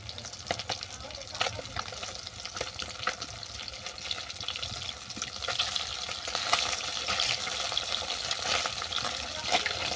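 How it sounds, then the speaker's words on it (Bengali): Pieces of bhola fish crackle and spit in hot oil, a dense continuous sizzle that swells louder as they are flipped over, with occasional utensil clinks. "এক পিঠ ভেজে নেওয়ার পর আমি অপর পিঠে উল্টে দিচ্ছি"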